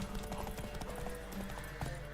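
Horse hooves gallop in a steady, rapid clip-clop rhythm throughout a video game, loud and close, with a brief whinny-like accent near the end.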